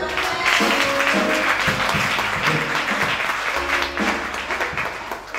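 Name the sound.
congregation applauding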